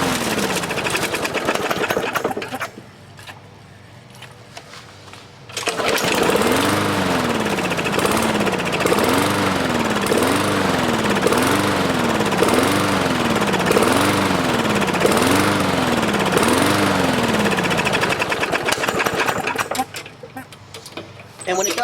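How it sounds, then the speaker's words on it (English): A free lawn mower's small engine on a cheap replacement carburetor runs with a rough, rhythmic rattling drone, surging in repeated cycles, with a quieter gap near the start and a fade toward the end. "when it does run, the engine sounds pretty decent"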